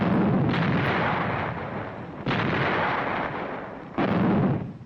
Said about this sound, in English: Artillery joined the concert of mortars, increasing the effect.